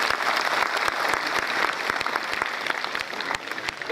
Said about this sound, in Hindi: मैं चाहूंगा कि आप लोग जोरदार तालियों से इनका स्वागत करें।